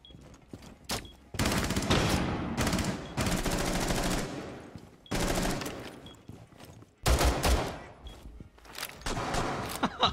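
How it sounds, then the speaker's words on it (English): Rainbow Six Siege gunfire in several loud bursts of rapid automatic shots, broken by short pauses, with sharp single cracks in between. "What is he shooting at?"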